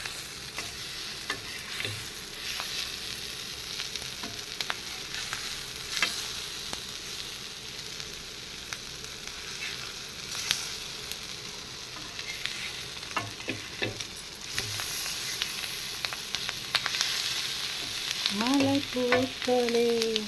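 Eggs sizzle in a hot pan for a spicy egg roast and are turned over one at a time, giving a steady close frying hiss with scraping stir strokes, and music rising faintly at the end.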